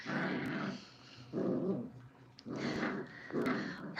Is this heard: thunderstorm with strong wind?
no